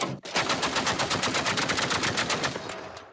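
A sustained burst of rapid, evenly spaced gunfire from an anti-aircraft gun at night on the front line in Ukraine, loud and close, lasting nearly three seconds before stopping abruptly.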